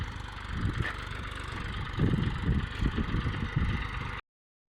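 A tractor engine on a farm running steadily at close range, a low throbbing rumble with a slight surge partway through before cutting off abruptly.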